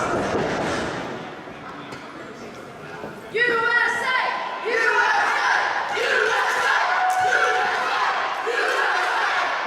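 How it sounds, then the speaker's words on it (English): A wrestling arena crowd jeers and shouts at a wrestler, a loud, sustained roar that swells into rhythmic chanting partway through. "And now the crowd here doing whatever they can to get under the skin of Dante Steel."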